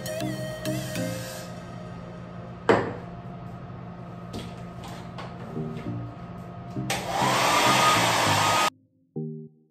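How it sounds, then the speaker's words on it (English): A hair dryer blows over glue spray on a wig cap, first a steady moderate whoosh with a sharp knock partway, then a louder, brighter blast near the end that cuts off abruptly, followed by a brief clatter. "Just always do that and blow dry it afterwards."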